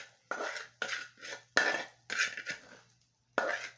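Scrambled egg scooped from a pan with a metal utensil, a series of separate scraping and clinking strokes in irregular rhythm, close and moderately loud, with brief pauses between them and no talking.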